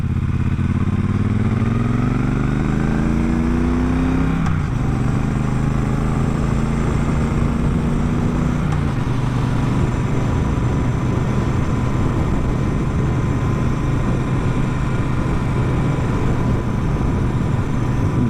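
A 2017 Bonneville Bobber motorcycle engine idles close by, its steady low rumble settling after a brief rise and fall in pitch early on, continuous and loud throughout.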